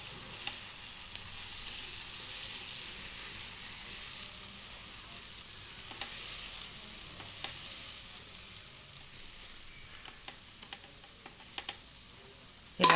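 Pesarattu batter frying in oil on a pan, giving off a steady, fairly soft sizzle with faint crackles throughout and no talking.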